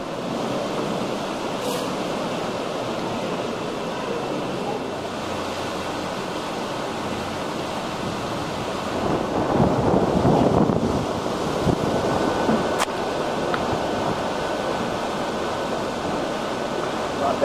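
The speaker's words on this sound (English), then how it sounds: "What a hurricane coming right at us then." Hurricane Jeanne's storm winds in eastern Florida roar continuously, a loud gusty rush with surging surf-like noise and wind buffeting the microphone, swelling stronger midway through.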